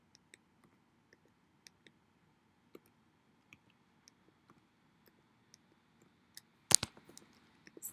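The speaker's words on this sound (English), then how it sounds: "And we're just going to type the data in." Sparse, faint keystrokes tap at an irregular pace as figures go into a computer spreadsheet, with a short louder burst of quicker key clicks near the end.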